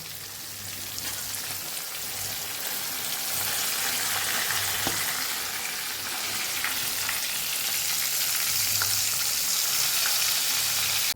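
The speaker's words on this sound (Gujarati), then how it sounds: "બધી બાજુથી સરસ આપણા મરચાંને ફેરવતા ફેરવતા તળી લીધા છે" Coriander-cumin stuffed green chilies frying in hot oil, a continuous close hiss and crackle that grows slightly louder and denser over time, with no talking.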